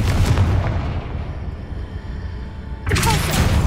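A Confringo fire spell blasts in the PC game Hogwarts Legacy, a heavy booming explosion that rumbles and decays over a few seconds before a second loud blast hits near the end.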